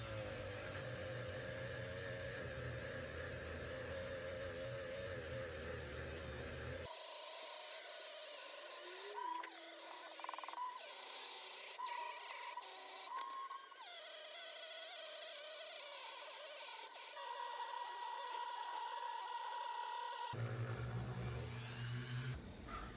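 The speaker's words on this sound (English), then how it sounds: "I then used the polishing wheel that came with the Dremel along with the buffing compound, which worked really well to make the epoxy look glossy again." A Dremel rotary tool drives a polishing wheel with buffing compound across the epoxy river of a wooden charcuterie cutting board, giving a steady high whine and buzz that carries on throughout, shifting in tone as pressure changes, close and fairly quiet.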